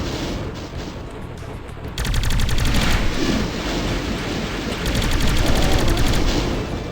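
A Doom spider mastermind fires its weapon, a loud, dense barrage of rapid shots that starts abruptly after a quieter moment and keeps hammering in fast bursts, heavy and close.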